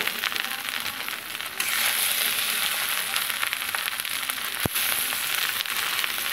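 Leftover rice being fried and stirred with fried potato and cauliflower, a steady close sizzle with scraping stir sounds throughout and one sharp clack near the end.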